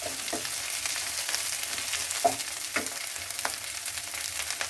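Gram-flour gatta fry in a pan over medium heat for a Rajasthani curry, a soft, even sizzle broken by occasional stirring clicks, heard alone without talk.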